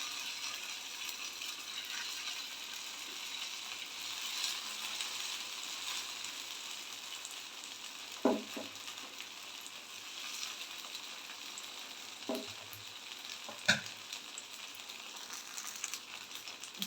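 Fish frying in hot oil in a pan, laid over a bed of curry leaves for a restaurant-style fish fry: a steady, close sizzle runs throughout, broken by a few short, sharper crackles and clatters.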